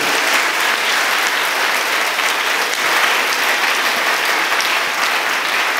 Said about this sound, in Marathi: टाळ्यांनी मला सांगा, टाळ्या